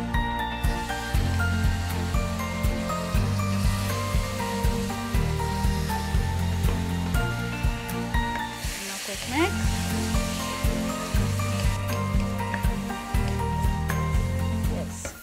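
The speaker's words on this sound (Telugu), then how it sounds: "ఇప్పుడు నేను ఇందులో వేసుకుంటున్నాను ఈ ల్యాంబ్ పీసెస్" Lamb pieces dropped into a hot pot of Indonesian soto-style soup with a butter, ginger-garlic and onion base, giving a steady close sizzle and frying hiss with faint stirring clatter throughout, under a layer of background music.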